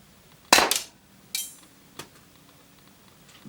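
A UK Arms P2400 low-powered air pistol fires once with a sharp, close, fairly quiet crack. A weaker snap follows, then a faint tick, over a quiet background.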